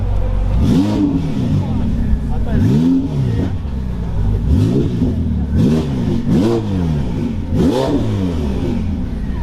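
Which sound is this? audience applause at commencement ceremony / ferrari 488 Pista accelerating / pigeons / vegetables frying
ferrari 488 Pista accelerating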